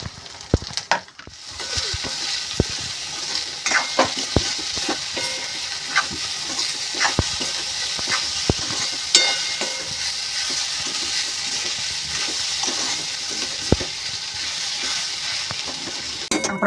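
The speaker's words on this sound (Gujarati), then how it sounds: "આપણે શેકી લીધું છે આ મસાલો" Green chickpea kachori filling with garam masala, sesame, sugar, turmeric, crushed peanuts and grated coconut roasting in a pan, a steady soft sizzle broken by frequent scraping taps of a spoon stirring throughout.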